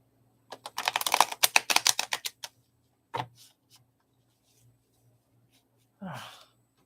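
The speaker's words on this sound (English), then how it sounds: "It's hard to get everything shuffled." Two decks of playing cards shuffled together, giving a quick burst of rapid riffling clicks, then a couple of short shuffling rustles and a brief breathy voice sound.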